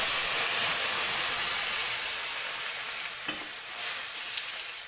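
Turmeric and tempering spices sizzle in hot oil for a Telangana-style salla charu, a loud, steady frying hiss with no voices.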